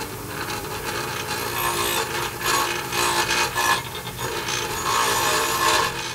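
A hand grinder bevels the cut edges of Ford 9-inch axle shafts, giving a loud, close, continuous rasping grind that swells and eases in uneven bursts, with no speech.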